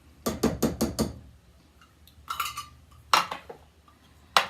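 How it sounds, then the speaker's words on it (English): A utensil stirs cheesy chicken adobo soup in a pan, with a rapid burst of four metallic scrapes and knocks, then a few more clinks and taps spaced apart, close and clear with no talking. "now we're just going to mix this all up here"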